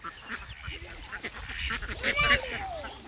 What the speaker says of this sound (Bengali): সবগুলো হাঁস প্রায় 1000-এর মতো হাঁস আছে এখানে